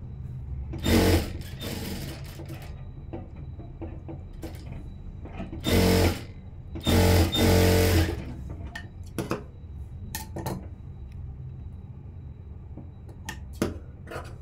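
A sewing machine stitches a blouse seam in short bursts, with a brief run near the start and two longer runs midway, separated by quieter gaps with small clicks and handling noises.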